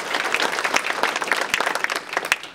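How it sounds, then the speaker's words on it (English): Meeting attendees applaud colleagues who earned professional certifications, a full, loud round of many hands clapping, steady and continuous with crisp individual claps rising out of the crowd noise. "Round of applause for our colleagues."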